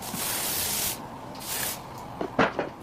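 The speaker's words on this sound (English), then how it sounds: "Okay, so I'm gonna spray this side a little bit." Spray bursts from a can hiss onto a wig, in two long, close sprays followed by soft rustling and handling sounds.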